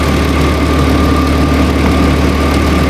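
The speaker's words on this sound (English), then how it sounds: "High beams, rear defogger, blower on high, idling in gear." A Hyundai Santa Fe engine idles in gear with high beams, rear defogger and blower on high, giving a steady, even low rumble with constant fan-like hiss and no talking.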